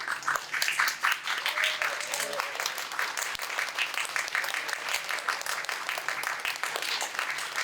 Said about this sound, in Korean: 뜨거운 박수로 환영해 주시면 감사하겠습니다.